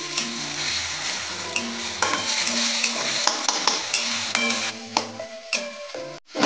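Crushed green chilli, garlic, tomato and salt sautéing in a pan for sukhat chutney, with a constant sizzle under repeated scraping and clinking of a spatula against the metal pan, and no voices.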